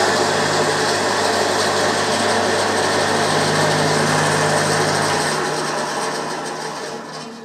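A bandsaw runs after a blade change: a loud, steady whine with mechanical whirring, close by, then the note starts to wind down at the end. No voices are heard.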